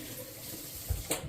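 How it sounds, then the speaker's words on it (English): Water runs from a kitchen tap as fingers sticky with bread dough are rinsed under it, a brief, faint steady splash with a couple of small splashes near the end. "I'm going to rinse my fingers here."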